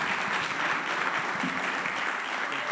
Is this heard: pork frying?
no